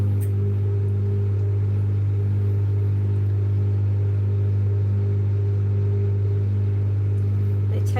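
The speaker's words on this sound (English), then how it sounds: "excuse the noise of the microwave for 30 seconds" A microwave oven running in a kitchen, a steady low mains hum with a constant drone that stays unchanged throughout, no voices over it.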